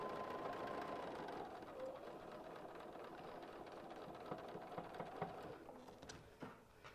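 A sewing machine stitching a quarter-inch quilt seam, giving a quiet, steady mechanical whir and hum that continues evenly with slight fluctuations near the end.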